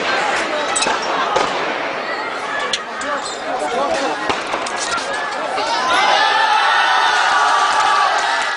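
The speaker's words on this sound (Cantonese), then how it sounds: "武警又向天開槍" Armed police fire gunshots into the sky during ethnic street clashes between Han and Uyghur crowds in Urumqi. Several sharp cracks go off over a loud, shouting crowd, and the din swells toward the end.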